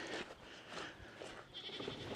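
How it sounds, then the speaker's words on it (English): A small goat screams and bleats repeatedly in a farm pen, the cries coming in uneven bursts close to the microphone amid general barnyard noise. "The little goat's still screaming."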